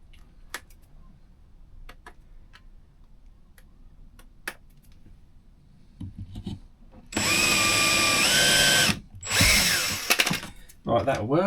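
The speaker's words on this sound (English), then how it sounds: "just going to drill that and screw it on with the single screw for the moment" Quiet scattered ticks and light handling give way to a power drill drilling a hole, whirring loudly close up in two strong bursts near the end, with a brief pitch change and stop between them.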